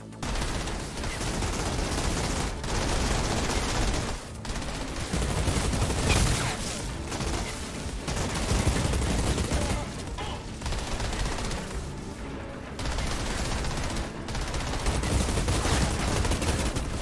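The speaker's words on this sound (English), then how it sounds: "Let's just run around and blast everyone mindlessly and see if that works." Rapid gunfire from an Outriders run-and-gun fight, dense and continuous bursts of shots layered over a loud game mix with brief gaps, steady and close throughout.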